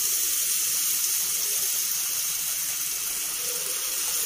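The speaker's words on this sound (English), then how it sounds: "So I use this chicken broth. So we pour some" Chicken broth poured into a cooking pot, a steady close hiss of running liquid lasting several seconds without a break, with no talking.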